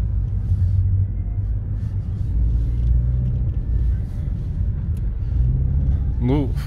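A Chery Tiggo 2 pulls away through loose snow, its engine a steady low rumble close by, with a short rising tone near the end and no clear speech.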